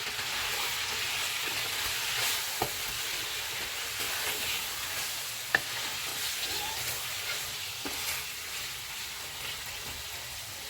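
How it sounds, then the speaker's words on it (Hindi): Chicken frying with ginger-garlic paste in a pan on full flame for Bombay biryani gives a steady, dense sizzle throughout, broken by a few sharp clinks of a utensil. "इसमें अदरक और लहसुन का पेस्ट डालेंगे।"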